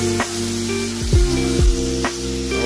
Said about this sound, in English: You're hearing the sizzle.